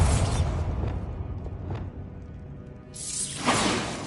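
A Bombarda spell explosion in Hogwarts Legacy, heard as a loud whooshing burst that fades through a rumbling tail, then a second swelling blast and whoosh.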